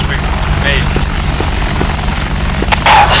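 An AH-64 Apache helicopter in DCS flight simulator, steady rotor and engine drone throughout, with people talking over the constant hum.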